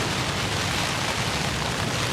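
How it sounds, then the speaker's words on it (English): Heavy rain drums on a silnylon tent fly during a stormy solo coastal wild camp, a dense, steady roar of close patter with no voices. "Give us a wee listen to the rain on the canvas, or the rain on the sill nylon."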